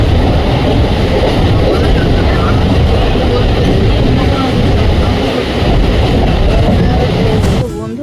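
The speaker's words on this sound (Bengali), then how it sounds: "আমরা ট্রেনে উঠে পড়েছি" Inside a moving passenger train just after boarding near Haldia, a loud, constant roar and rumble fill the carriage for the whole stretch, with faint voices underneath.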